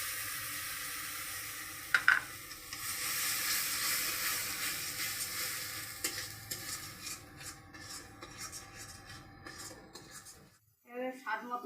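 Browned onions with a little sugar frying in a pan for a Kashmiri paneer dish give off a soft, steady sizzle with faint scraping stirs, fairly quiet and close, ending with a few brief clatters.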